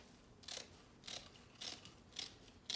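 Scissors snipping through three stacked layers of fabric for a mailbox swag, five short crisp cuts at a steady rhythm, faint and close with no talking.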